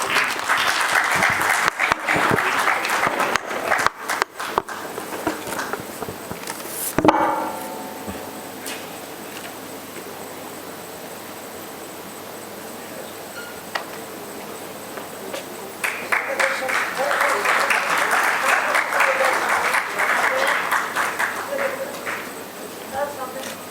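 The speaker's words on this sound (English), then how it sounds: "Can Can we have a huge round of applause?" A medical conference audience at a physiotherapy event gives a long burst of dense hall applause, which fades into a quiet room with some talk and then swells again into a second loud round of clapping.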